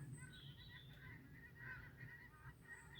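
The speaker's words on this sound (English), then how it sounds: "There's another big flock of pink-footed geese" A large flock of pink-footed geese flying north in October over Misson Carr, calling continuously with overlapping honks and yelps, moderately distant and steady throughout, with no talk.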